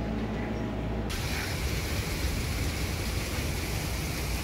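Steady rain falls during a summer thunderstorm, a dense even hiss that grows fuller after the first second and holds at moderate level with no voices.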